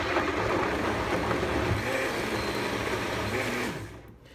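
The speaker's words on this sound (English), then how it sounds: "So what I'm going to do is add the tomatoes to it and blend it." A kitchen blender grinds peanuts, spices and tomatoes for a Cameroon peanut stew. A loud, steady whirring roar runs continuously and then winds down and cuts off near the end, with no talking.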